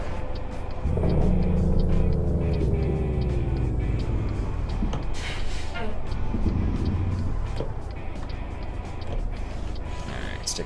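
Heavy truck engine in American Truck Simulator downshifting while hauling a bulldozer, a loud steady low rumble with a dip and rise in revs and falling harmonic tones, with speech over it in places.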